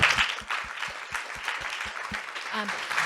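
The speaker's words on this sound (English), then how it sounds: "So please give them a round of applause." Audience applause for a panel at a charity and children's advocacy event, with a few sharp individual claps standing out at first, then a steady crowd patter, and a voice briefly audible near the end.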